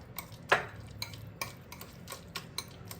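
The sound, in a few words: mashing custard apple pulp to separate seeds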